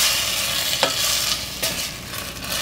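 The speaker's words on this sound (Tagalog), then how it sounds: "So itutuloy lang natin yung pagluto dito hanggang sa mag-brown ito." Beef browning in a pan after soy sauce and lemon went in, with a steady broadband sizzle and two brief stirring scrapes over about three seconds; no voices.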